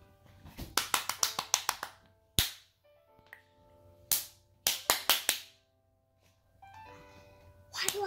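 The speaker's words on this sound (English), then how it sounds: "Why do I clap so loud?" Sharp, loud hand claps in quick bursts, one group of about eight, then single claps and another run of five, close to the listener, with brief tonal sounds between them and no clear talking.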